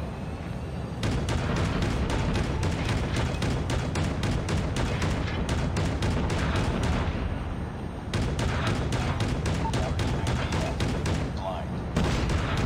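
Call of Duty Mobile gunfire rattles in long, rapid, evenly spaced bursts, loud and up close, pausing briefly before resuming with steady repeated shots.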